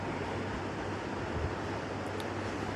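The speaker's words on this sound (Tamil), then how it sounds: "மசாலா நல்லா கொதித்து வருது பார்த்திங்களா" Masala gravy for a cauliflower and capsicum dish boiling in a pan, giving a dense, steady bubbling and sizzling hiss with no pauses.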